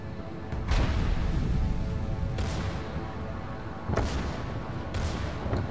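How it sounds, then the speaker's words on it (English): Secondary guns firing from a warship in World of Warships, a series of deep booming volleys spaced a second or two apart over a low rumbling background, with no talking. "my secondaries are shooting at it"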